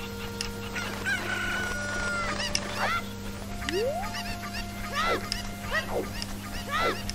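Cucco chickens in Zelda Ocarina of Time give repeated short, sharp squawks and clucks scattered over several seconds, moderately loud against steady background game music and hum.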